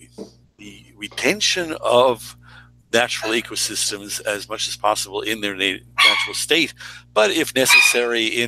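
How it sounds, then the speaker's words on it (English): A dog barks and yips repeatedly in the background at home while a man keeps lecturing over it in a live online session. "I'm sorry about my dog here."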